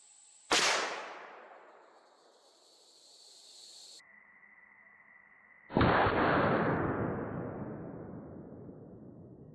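A .375 H&H rifle fires a Hornady 300 grain DGX Bonded bullet into ballistic gel, giving one sharp, loud report with a long decaying tail, then after a tonal pause a second loud burst that rolls away slowly.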